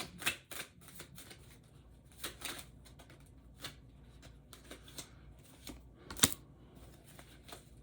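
Tarot-style reading cards shuffled and drawn by hand during a general reading: quick riffles and soft papery slaps come in bursts with a sharper snap near the end, close and quiet, with no talking.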